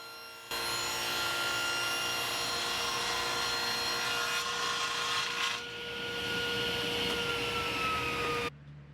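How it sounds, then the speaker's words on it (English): A miter saw whines loudly and steadily for about eight seconds while cutting wenge and maple boards in a woodworking shop, the pitch shifting midway as the blade moves through the wood, then stopping sharply. "I needed to cut them to a rough width so that way I could cut them down to size on the miter saw."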